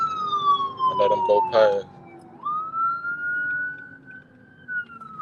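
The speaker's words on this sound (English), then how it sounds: "Got this daggone ambulance behind me and some more stuff" An ambulance siren wails behind a moving car, its tone sliding as it drifts past, while someone talks over it in the first half.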